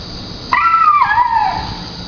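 A young dog, 1.5-year-old Barney, lets out a single drawn-out whining howl lasting about a second, rising then sliding down in pitch, close and fairly loud over a quiet background.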